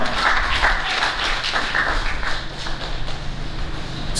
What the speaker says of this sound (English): you can give a round of applause for that